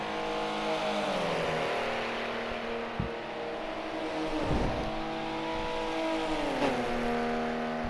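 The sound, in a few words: race car passing at full throttle on Monza oval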